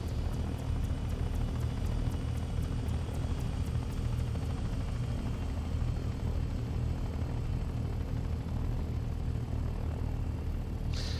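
A helicopter in the flight simulator game Take on Helicopters, a dense steady rotor and engine roar with a fast blade chop, continuous and loud from start to finish.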